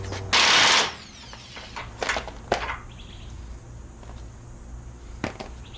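A hand ratchet works on the top shock bolts of a 2012 Ram 1500: a short burst of mechanical noise, then sparse, close metallic clicks in a quiet garage.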